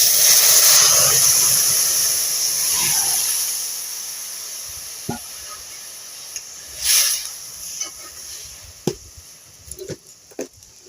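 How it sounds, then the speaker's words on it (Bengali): Lentils tipped into onions fried until reddish-brown for masoor dal, giving a strong hiss and sizzle that fades over the first few seconds, followed by scattered clinks and scrapes in a quiet kitchen. "পেঁয়াজটা লাল লাল করে ভেজে নিয়েছি ঠিক এই পর্যায়ে আমি ডালটা দিয়ে দেব"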